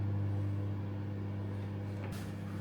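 A microwave oven cooking lasagna in a thirteenth-century church gives a steady low hum, heard close, with a short click near the end.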